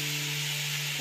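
Dried fish (sukat) frying in a pan for a spicy Marathi brinjal curry, a steady broadband sizzle with a low constant hum underneath, close and even throughout the short moment.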